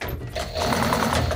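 An electric sewing machine runs steadily, stitching ruffled upholstery cushion fabric, its motor whirring and needle chattering continuously at close range after a brief quieter start.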